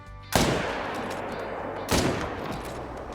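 Two loud, booming .300 rifle shots in the hunting game Call of the Wild, about a second and a half apart, each trailing a long rumbling echo.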